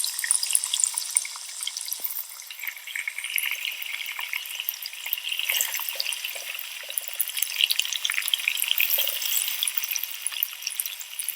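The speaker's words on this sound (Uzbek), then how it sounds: "Yaxshilab qovuramiz. We have to fry it well." Chicken and onion with cumin fry in a pan with a steady, bright sizzle and crackle, broken by light stirring scrapes, close and without speech.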